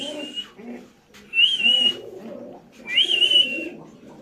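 Birds at a pigeon market, with two bright whistling calls rising above a low murmur of cooing and bird chatter, the calls coming in two short bursts a second apart.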